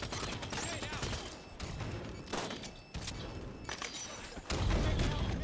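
Halo 5 Guardians multiplayer combat plays out in dense bursts of gunfire and thuddy blasts, with a heavy grenade-like explosion near the end, loud and close with game sounds layered throughout.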